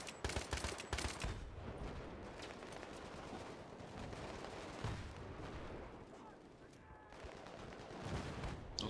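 Rapid gunfire in the military shooter Battlefield 3, with bursts of automatic shots and booming artillery-like blasts rolling over each other, fairly faint and distant-sounding throughout.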